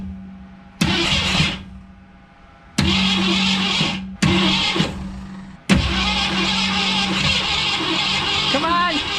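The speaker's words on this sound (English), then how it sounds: "Let's go ahead and see if it actually cranks up." A Ford Falcon left sitting for 15 years cranks in four bursts separated by pauses, the starter whirring loudly up close without catching, while a person talks over it.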